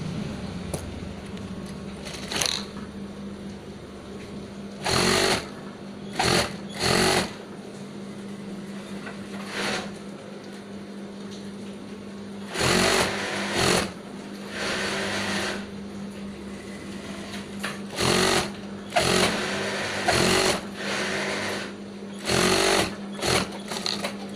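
Sewing machine stitching the back panel to the skirt of a gamis dress in repeated short runs of rapid mechanical whirring, broken by quiet pauses and a steady background hum.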